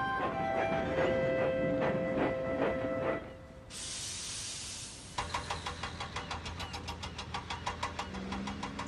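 Thomas the tank engine racing along the rails, with a sharp burst of steam hissing in the middle and a rapid, rhythmic chuffing of the engine that carries on loudly afterwards.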